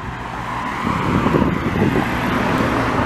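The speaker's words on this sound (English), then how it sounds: "City of Montreal trucks." City of Montreal municipal trucks pass along a city street: a loud, close rumbling engine and tyre roar that swells in the middle and stays heavy, with no talk.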